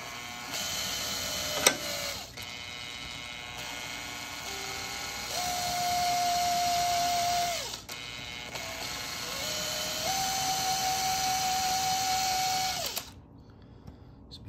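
A power drill whines in two long sustained bursts, pitch rising as it bites into metal rivets on a Honda CRF150F petcock faceplate, with brief pauses and clicks between them.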